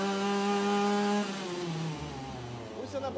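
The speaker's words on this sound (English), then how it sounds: "Today we have this lawnmower that starts but behaves like this." A two-stroke grass strimmer engine with a suspected carburetor fault runs roughly, its loud buzzing tone dropping and wavering unevenly as it struggles to keep running.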